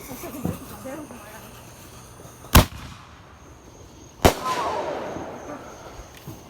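Fireworks mortars and firecrackers go off outdoors at night, with two sharp loud bangs a couple of seconds apart, a hissing crackle after the second, and a person talking quietly between them.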